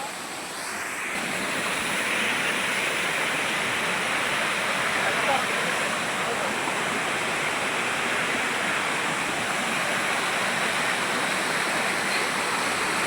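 Podili Konda waterfall, swollen with cyclone rainwater, pours in a loud, steady, broadband roar that swells within the first two seconds and then holds constant and close.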